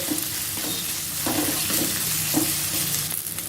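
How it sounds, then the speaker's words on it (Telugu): Sliced onions and curry leaves frying in hot oil, a steady loud sizzle with periodic stirring scrapes from a spoon in the pan, close up and without speech. "కొద్దిగా కరివేపాకు వేసుకొని ఆనియన్స్ని ఒక రెండు నిమిషాలు ఫ్రై చేసుకోవాలి"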